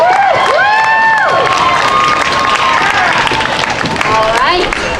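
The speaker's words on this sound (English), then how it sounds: "So the people that you like, cheer real loud, okay?" Crowd at an outdoor Mr. Osaka contest during the Osaka Matsuri festival in San Francisco's Japantown cheering and clapping for a contestant, with loud whoops and shouts over steady applause throughout.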